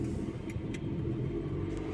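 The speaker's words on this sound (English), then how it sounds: "We're off to the bank if the car starts." A car engine rumbles low and steady, close by and fairly quiet, with no voices over it.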